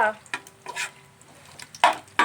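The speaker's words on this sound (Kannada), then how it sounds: "ಎಣ್ಣೆ ಒಳಗೆ ಅದ್ರ ಘಮ ಬಿಡೋವರೆಗೂ ಹಿಂಗೆ ಫ್ರೈ ಮಾಡಿಕೊಂಡು ನೋಡಿರಿ" Whole spices fry in hot oil for a biryani-style dish while a spoon stirs, with a soft sizzle under scraping strokes against the pan, several louder scrapes near the end, and no talking.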